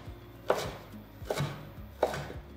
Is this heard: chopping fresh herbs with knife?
yes